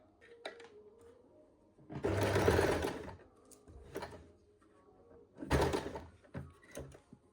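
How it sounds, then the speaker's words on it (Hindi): A domestic sewing machine stitches fabric for a heavy umbrella frock in two short bursts of whirring, each lasting about a second, separated by quiet handling clicks and rustles. "अब हम यहाँ पर एक बार सिलाई लगा लेते हैं"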